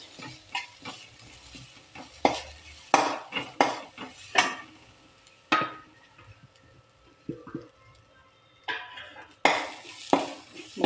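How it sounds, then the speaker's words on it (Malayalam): Grated coconut is stirred in a pan while it heats for beetroot sweet balls, a series of irregular scraping and clinking strokes of a spoon against metal, with soft quiet gaps between the strokes. "നമുക്ക് തേങ്ങ ഒന്ന് ചെറുതായിട്ടൊന്ന് ചൂടാക്കിയെടുക്കാം."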